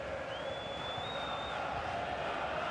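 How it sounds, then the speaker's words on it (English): Stadium crowd in a football video game during a Benfica versus Arouca match, a steady roar of cheering with a rising whistle near the start, sustained throughout. "The crowd certainly think so. Just listen to them."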